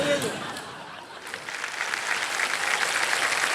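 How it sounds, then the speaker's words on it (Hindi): Studio audience applause on the TV quiz show KBC, a broad wash of clapping that dips briefly then swells and holds steady, with faint voices underneath. "तालियां बजती रहे हमारे कंटेस्टेंट्स के लिए"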